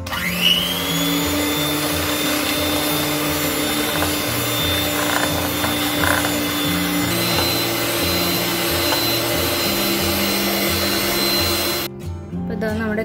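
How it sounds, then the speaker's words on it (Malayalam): An electric hand mixer beats cream for cake at a steady, loud whir, running from low speed up to high, with a faint voice underneath before the motor stops abruptly near the end. "നമുക്ക് ഒന്ന് ബീറ്റ് ചെയ്ത് എടുക്കാം"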